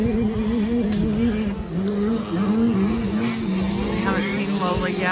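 Motocross motorcycles race past on the Clay Peak dirt track, their engines droning steadily and loud with rising and falling pitch as riders come around, mixed with crowd chatter.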